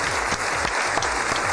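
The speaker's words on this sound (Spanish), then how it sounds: "Recibamos con un fuerte aplauso a Alejandra Azcárate" Studio audience applause welcoming a guest onto a Colombian radio talk show, a dense, steady burst of clapping throughout, fairly loud and close, with no voices over it.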